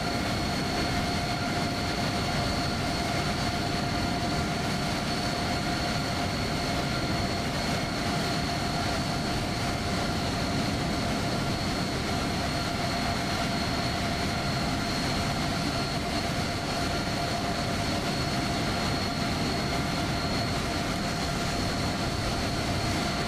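An EVA Air airliner taxis in Microsoft Flight Simulator 2020 at Hong Kong airport, a constant loud engine roar with steady whine tones holding unchanged throughout, no voices.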